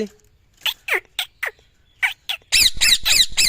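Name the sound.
talking parrot squawking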